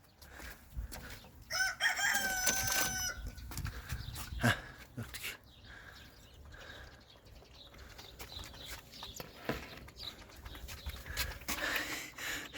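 A dog barks a few times amid outdoor noise at a chicken farm, with a rooster crowing loudly in the background.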